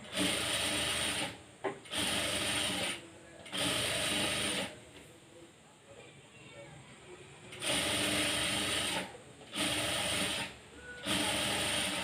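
Sewing machine stitching a blouse, running in repeated bursts of about a second each with short pauses between, plus a longer quiet gap in the middle filled with faint handling and rubbing noises.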